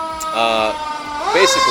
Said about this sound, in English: apologies for the sirens here that you're about to hear.